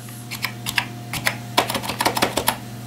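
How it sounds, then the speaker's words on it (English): Typing on a Zenith Data Systems RS 6000 AT PS/2 keyboard, a close, irregular run of crisp key clacks, sparse at first and then quicker, with no talk. "Let me type"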